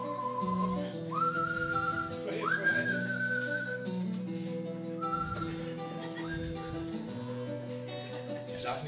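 Whistling carries a melody over steady background music, with sustained notes that slide up between phrases.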